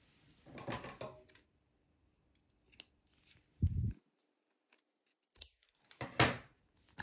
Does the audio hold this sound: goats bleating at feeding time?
no